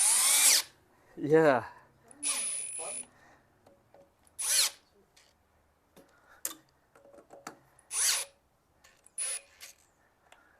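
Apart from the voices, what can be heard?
power drill running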